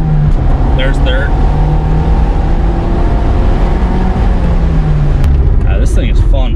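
A 1991 Nissan Pulsar GTi-R with a manual gearbox pulls hard in third gear, its engine a loud, close, steady drone with rising tone, heard from inside the car.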